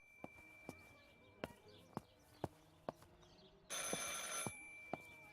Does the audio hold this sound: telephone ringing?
yes